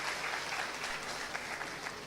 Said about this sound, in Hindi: सो जोरदार तालियां होनी चाहिए हमारे